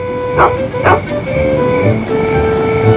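A dog gives two quick barks up close, then steady background noise with tonal hum continues; a voice may murmur faintly underneath.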